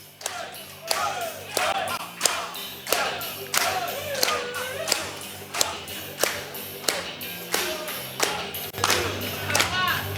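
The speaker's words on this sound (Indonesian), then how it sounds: "Ya, kasih tepuk tangan." Audience at a session of a TMC event claps in a loose, rhythmic burst, with sharp thumps and taps repeating roughly every second over a murmur of crowd voices, fairly close and steady throughout.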